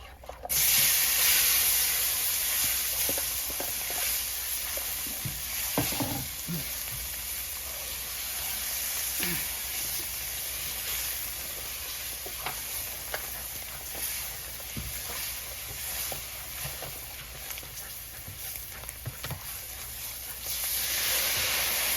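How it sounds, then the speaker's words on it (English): Broth is poured into a hot pan for turkey gravy, giving a continuous loud hiss and sizzle that starts abruptly, bubbles and crackles steadily for about twenty seconds, then swells again at the end, heard close up. "I'm going to pour my broth in"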